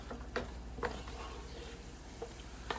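Chopped garlic frying in a pan gives a soft steady sizzle, broken by a few scraping stirs of a utensil at irregular intervals, close and fairly quiet, with no voices.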